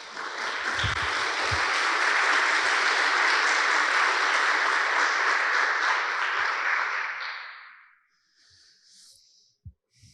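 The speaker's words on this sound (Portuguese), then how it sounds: "Você pode aplaudir o Senhor?" Church congregation applauding during a sermon, a broad wave of many hands clapping for about eight seconds before fading out, followed by near silence with a few faint noises.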